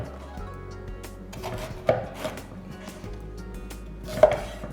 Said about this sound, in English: For our cabbage, we're going to cut it into quarters.